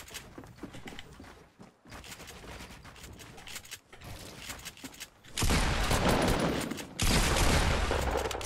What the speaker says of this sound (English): I literally shot him as he was falling